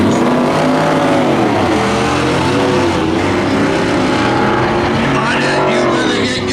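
A 2007 GMT 3/4 ton pickup truck revs hard at a spectator drag race, its engine droning loud and steady with rising and falling pitch while a voice talks over it.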